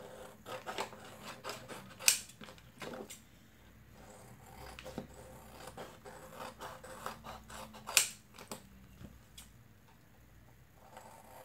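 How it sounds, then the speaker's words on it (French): Scissors snip away the excess plastic around a laminated drawing, a series of faint, close crisp cuts and rustles with two sharper snips standing out, no talking. "Une fois qu'il est plastifié, donc je viens couper le surplus."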